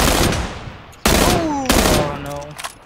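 Rapid gunfire in the video game PUBG, loud close bursts of shots cracking in quick succession with sharp echoing decays, three main volleys over a few seconds, with a player's voice briefly in between.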